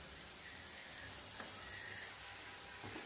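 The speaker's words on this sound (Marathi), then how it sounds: "कमी गॅसवरच भाजायचं, घाई करू नका, म्हणजे छान असं भाजलं जाते डाळ." Moong dal paste roasting in ghee in a pan over low heat, a steady soft sizzle and faint crackle running throughout at low volume with no voices.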